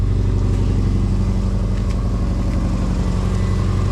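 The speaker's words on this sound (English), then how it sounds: "turn the key, listen to your exhaust leak" A Subaru Forester engine with an exhaust leak idles steadily up close, its low, rough exhaust rumble pulsing with a rapid ticking rhythm and no voices.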